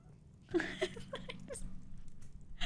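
A pet cat meows repeatedly in the background of an indoor livestream, a short series of fairly faint mews with a few louder calls near the start, over low room hum and no talk.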